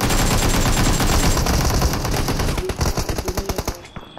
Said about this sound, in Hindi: अरे शॉटगन कौन मार रहा है?